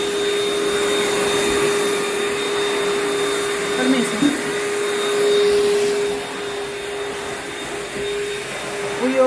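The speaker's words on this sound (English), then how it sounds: "we use a protein backpack vacuum, HEPA filtration" A backpack vacuum cleaner with HEPA filtration drones steadily and loudly for the whole stretch, a constant high whine over a dense hiss, with brief bumps as the brush moves and a short spoken word partway through.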